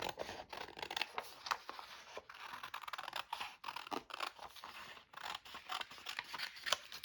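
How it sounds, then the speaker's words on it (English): Scissors cut out paper during a crafting session, quiet close snips and crisp slicing scrapes coming in irregular bursts with brief pauses between cuts. "Let's cut this one out."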